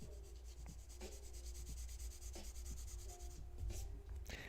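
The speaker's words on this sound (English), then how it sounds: "There's something on my table that is scraping." Steady rubbing scrape on a tabletop while someone draws, with a constant broadband grind and a few soft ticks and taps over a low background hum.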